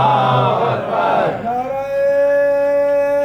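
At a religious gathering, a large crowd answers a leader's call with loud, sustained chanted religious slogans, many voices rising together and holding a long drawn-out tone.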